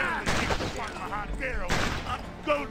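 Rifle shots in the Western video game GUN crack out in several loud, sharp bursts, with someone talking between and over them.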